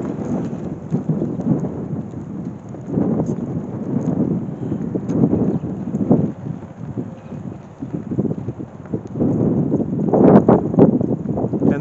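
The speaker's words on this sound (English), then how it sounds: "get out of this wind" Strong wind blows outdoors at the entrance of the Thomas P. Stafford Air and Space Museum in Weatherford, Oklahoma, buffeting the microphone as a continuous loud, rumbling roar with gusty swells that builds toward the end.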